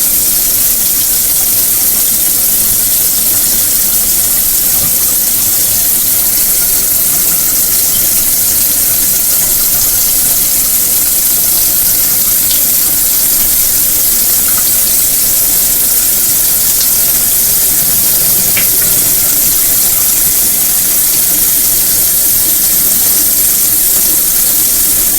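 Water drains out of a pot of cooked rice, a steady broad hiss and gush that runs unchanged for the whole stretch, with faint occasional clinks over it.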